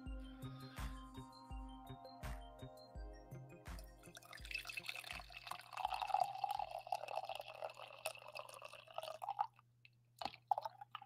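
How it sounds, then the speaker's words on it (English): Coffee being poured into a cup during a morning live stream, a steady liquid trickle and drip rising over a repeating low musical backing, fairly close and moderately quiet, with no talking. "That's the last coffee pour"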